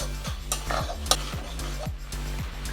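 Mashed bottle gourd leaf paste being stirred in a pan, a spoon scraping and knocking against the metal in repeated strokes with a faint sizzle underneath, close and fairly quiet with no talking.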